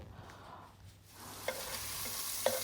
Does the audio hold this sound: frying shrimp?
yes